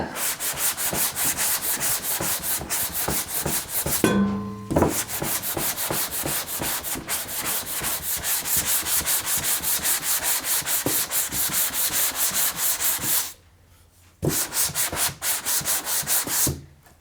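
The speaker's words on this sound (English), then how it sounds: "just to sand this area down here and smooth that out" Wet sanding of a car body area before painting: a continuous rhythmic scrubbing of rapid back-and-forth strokes, close and loud, with two brief pauses.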